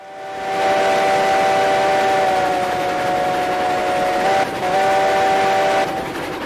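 A steam locomotive whistle in the Railroads Online video game blows a long, loud, steady chord, briefly broken near the end before sounding again, with no talk over it.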